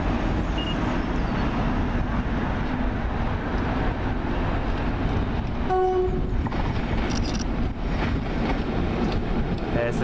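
A Tata Steel freight train passes at Eastleigh, a loud continuous rumble of rolling wagons and wheel noise filling the scene, with a brief horn-like tone partway through.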